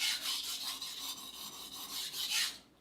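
A ZDP-189 Bunka knife is drawn across a whetstone in a few steady rasping strokes, close and fairly loud, each pass a scraping swell before the sound stops abruptly.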